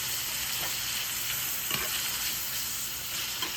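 Drained mushrooms browning in a hot pan for a bacon mushroom chicken chili, giving a steady, close, continuous sizzle and hiss with a few faint stirring clicks and no talking.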